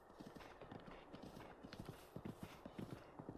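Clip-clop hoofbeats of Epona, a horse in the video game Breath of the Wild, trotting in a steady rhythm of close, repeated thuds over a busy background wash, with no talk.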